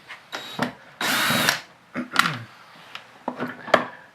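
A power drill backs screws out of the steering motor on a SPORTrax X7 RC car in short loud whirring bursts, one long run near the middle, close up with no talking.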